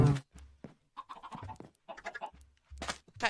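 Minecraft chickens cluck in short bursts, a handful of separate close clucks with brief gaps between them, fairly quiet and heard on their own.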